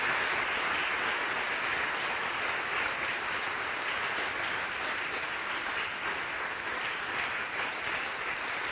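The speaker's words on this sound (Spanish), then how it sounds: "Recibe las palmas, Yahshua, son para ti." Church congregation clapping hands in praise during worship, dense continuous applause from many people at moderate distance, steady and sustained without pause.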